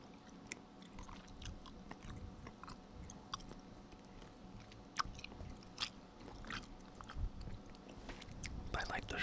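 Soft, close, wet chewing of sugar-free bubble mint gum, steady smacking and squishing throughout, with quiet whispered speech faintly underneath.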